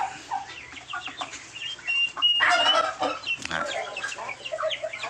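Chickens cluck and chatter close by, several birds overlapping in an uneven, busy run of short calls with no voices.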